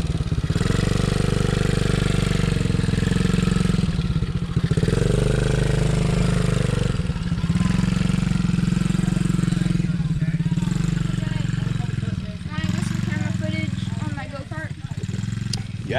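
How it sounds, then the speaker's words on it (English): An American Sportworks 150cc Scorpion engine starting and then running, a loud, steady mid-pitched motor drone with some revving and clatter, while people talk over it nearby. "give it a little more gas when it starts. There you go. Give it a little gas. You're good. It's running."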